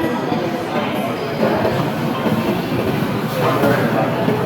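An MTR train pulls into the station with a steady, loud rumble of wheels and carriages throughout. Voices are faintly mixed in.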